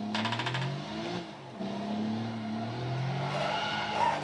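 A Nissan 370Z skids in the Gran Turismo 6 racing game, with a steady tire squeal over droning engine noise through a continuous slide and a brief scrub near the end.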